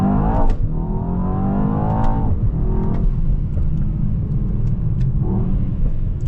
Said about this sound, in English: now it's just all engine and exhaust note, natural sound